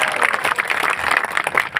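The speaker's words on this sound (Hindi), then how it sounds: "जोरदार ताली बजाओ" Loud, dense clapping from a large crowd at a live public gathering in Deoghar for Madhya Pradesh CM Mohan Yadav, a continuous burst of close applause with no pauses.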